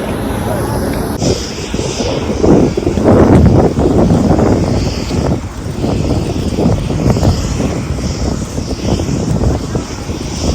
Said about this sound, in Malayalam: ഇതാണ് ഫ്ലൈറ്റ് എത്യോപ്യൻ എയർലൈൻസിൻ്റെ ഫ്ലൈറ്റാണ് ഈ കാണുന്നത്